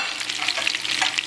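Homemade Italian meatballs fry in a pan, giving a close, continuous sizzle with crackling pops and some stirring, with no talking.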